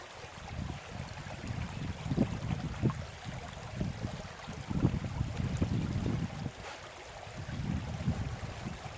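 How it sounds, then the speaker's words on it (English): Water rushes steadily through a GoldHog mini-sluice carrying gravel and clay material, a continuous gurgling wash with rhythmic surges and faint wind noise in the background. "we're going to feed this through the sluice."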